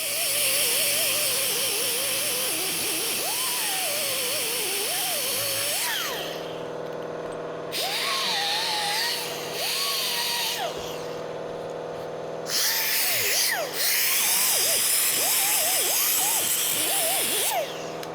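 Power tool sanding hardened fiberglass on a Smokey and the Bandit tribute truck, a steady loud whine running for long stretches with brief pauses and restarts, rising and falling in pitch as the load changes.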